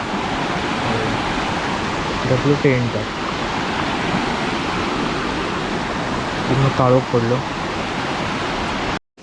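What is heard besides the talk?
heavy rain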